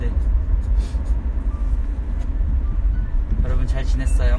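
Steady low engine and road rumble inside a moving car on a highway, with a person talking close by throughout.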